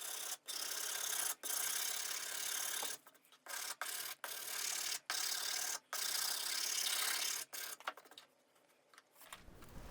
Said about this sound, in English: I did the finer sanding using a permagrit block and regular sandpaper